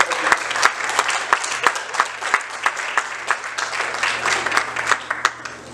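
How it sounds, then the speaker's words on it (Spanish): A church congregation claps after a sermon, a full burst of applause with distinct sharp claps standing out over the crowd and a steady low hum beneath, fairly close and continuous. "Dele fuerte el aplauso."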